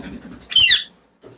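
A talking parakeet in a pet bird shop gives one short, harsh, high squawk right after a person's voice, then a brief quiet and a faint sound at the end.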